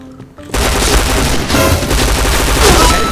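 Dense gunfire from the Point Blank shooter game bursts in after a brief quiet moment, loud rapid shots layered into a continuous barrage that fills the rest of the stretch.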